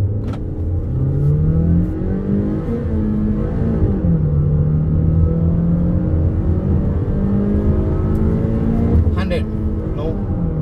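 A Honda Elevate accelerates hard from standstill toward 100 km/h, its engine note climbing and dropping through gear changes, loud and sustained from inside the cabin with faint voices.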